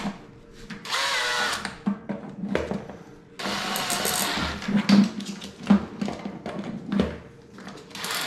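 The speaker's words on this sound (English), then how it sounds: "Connect the drill just like you would a normal drill bit." A power drill spins a drain snake auger, whirring in long bursts that surge and ease, with rattling and scraping as the cable turns, fairly close and with no talk.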